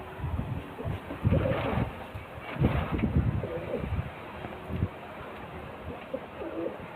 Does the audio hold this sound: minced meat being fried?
no